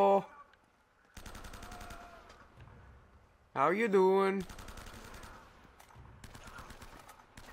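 Gunfire in the action game Uncharted: Drake's Fortune, short rattling bursts of shots in a waterway firefight, moderately loud and broken up by pauses, with someone speaking briefly over them.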